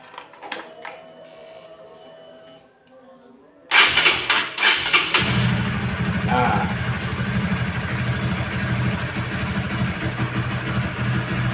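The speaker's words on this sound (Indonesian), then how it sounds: "Lalu setelah itu motornya kita nyalakan" A Honda CB150R motorcycle engine, opened up for a radiator coolant flush, cranks and starts after a few seconds of quiet handling noise, then settles into a steady, close idle, with a voice talking over it early on.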